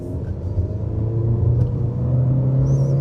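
A 2020 Honda Civic 10th generation engine pulling in sport mode, a steady low rumble and hum from inside the cabin that builds gently, moderate in level with no talk.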